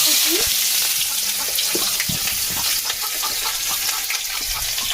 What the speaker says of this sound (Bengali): অ্যাড করব সর্ষের তেল তেলটা গরম হয়ে গেছে অ্যাড করব পেঁয়াজ